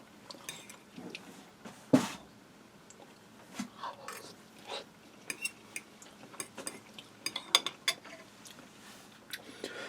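A fork and knife tap and scrape on a plate while eating cheesy broccoli pasta, with scattered sharp clicks, one louder clack and quiet chewing in a still room.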